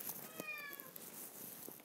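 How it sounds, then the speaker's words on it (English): A single short cat meow, fairly faint against a hissy room background, followed by soft rustling. "That's my cat."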